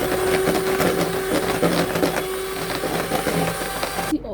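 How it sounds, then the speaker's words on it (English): Cream is whisked for homemade ice cream, a loud, continuous whirring and rattling that stays close and steady before cutting off abruptly at the end. "So the next thing is to start whisking."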